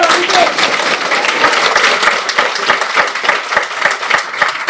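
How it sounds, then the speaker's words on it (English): Loud applause from a large crowd at a university department fest, dense steady clapping that fills the room, with some voices mixed in beneath. "Big round of applause for Abhishek."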